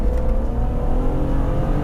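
A BMW Z3 M Coupé, about two decades old, driven hard with its engine revving steadily and loud throughout, a continuous close in-car drone with no talk.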